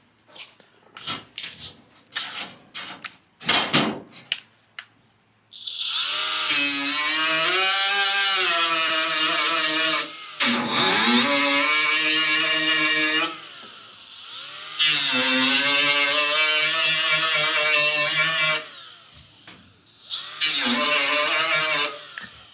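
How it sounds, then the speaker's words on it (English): Angle grinder taking down a high spot of body filler on a Datsun 280Z body panel, running loud and close in three long whining bursts separated by short pauses, with some clanks and handling noise before the first burst. "I'm going to grind that one down just a little bit more."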